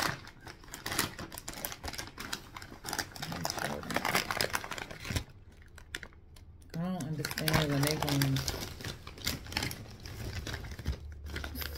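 A crinkly bag of veggie chips being opened, plastic rustling and crackling in bursts close by, with people talking over and between the crinkles.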